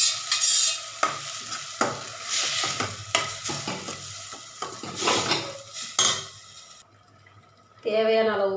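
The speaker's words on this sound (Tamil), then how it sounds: "சிம்மில் வச்சு, மீடியம் ஃப்ளேமில் வச்சு விடுங்க. நல்லா வதங்கிடுச்சு." Fenugreek leaves sautéing in a pan over a medium flame while a utensil scrapes and stirs them, a steady sizzle broken by metal clinks. Someone talks over it, then a brief quiet pause is followed by a voice.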